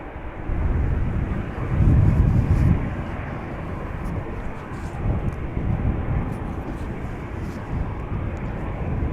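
An Air Baltic airliner departing Amsterdam Schiphol gives a loud, close engine roar that swells around the second mark and then settles into a sustained rumble, with some wind buffeting on the microphone.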